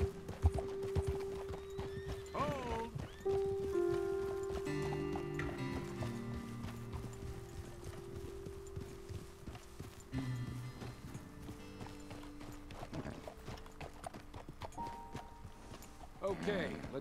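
Horse hooves clip-clop in a steady walking rhythm in Red Dead Redemption 2, with a horse neighing early on and voices talking over the trotting.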